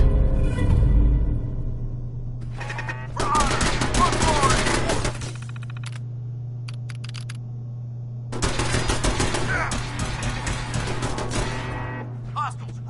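Automated turrets firing in the Fallout 4 video game, heard as loud, rapid machine-gun bursts in two long stretches with a brief burst early on, over a steady low hum.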